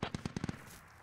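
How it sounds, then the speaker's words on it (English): Stryker armored vehicle weapon firing in a military simulation game, a quick burst of about six sharp, evenly spaced shots, faint and distant, with no talking. "I'm hearing a striker fire right now."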